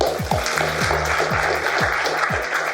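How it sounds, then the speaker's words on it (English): Audience applause at a self-improvement expo as a speaker is welcomed to the stage, a steady wash of clapping held at an even level throughout, with a low rhythmic thumping pattern underneath. "So can I have a big round of applause, please, for Carlos Saba?"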